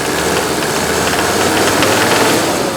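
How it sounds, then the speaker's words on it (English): A Mercedes W126 300SD diesel engine runs loud and close, its clattering, knocking tone from injector nailing sustained steadily throughout. "You can hear the injector nailing."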